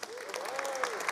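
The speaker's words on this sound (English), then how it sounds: "let's give our founders a round of applause" An audience applauds the founders at a startup pitch competition's Berlin regional final, a brief burst of dense clapping with a voice speaking through it.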